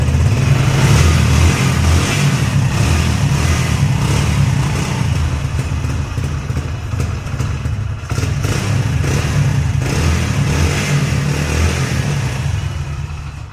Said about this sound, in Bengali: বাইকটির সাউন্ড কোয়ালিটি একদম নতুনের মতো আছে